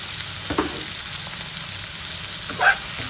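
Steady frying sizzle in a pan with salt just added, ahead of chicken for a quick green-chili chicken fry, a continuous hiss broken by a couple of brief stirring scrapes, close and alone.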